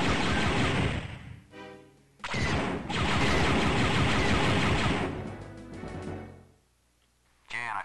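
Dense, loud blaster fire from the video game Star Wars: Dark Forces, continuous rapid volleys with brief gaps and a final burst, crowding the foreground.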